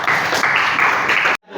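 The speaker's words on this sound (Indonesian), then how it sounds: "tepuk tangan untuk kelompok 1" Classroom applause for the first student group, a dense burst of clapping from many hands that holds steady for over a second and then cuts off abruptly.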